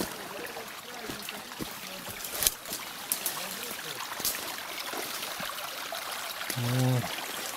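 Water flowing out of a pond and spreading across the ground, a steady trickling stream under outdoor noise with a few knocks and a brief engine-like tone near the end.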